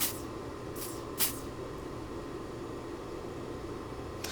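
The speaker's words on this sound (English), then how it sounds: "So we're going to just do very quick and small spritz" A can of 3D scanning spray gives two or three quick, short hissing spritzes close by against a steady background hiss.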